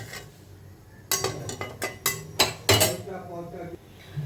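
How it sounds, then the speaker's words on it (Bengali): A karahi set down on a gas stove, the metal wok knocking and clattering against the burner grate in a burst of close, loud clanks that fade to quieter handling. "এবার একটা কড়া বসিয়ে দিলাম।"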